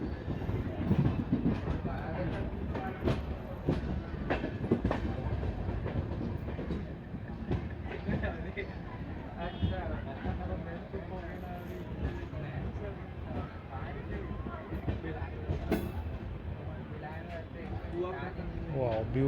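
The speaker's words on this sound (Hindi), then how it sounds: "बहुत ही प्यारा सा कर्व लेते हुए हमारी ट्रेन।" The Durg Puri Intercity train of Indian Railways runs along the track with a steady rumble and rhythmic clickety-clack as it rounds a curve, while someone talks over the noise throughout.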